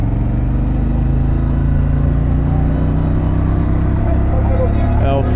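A Harley-Davidson Pan America motorcycle's exhaust drones loud and close with a steady, deep engine tone that rises slightly in pitch near the end.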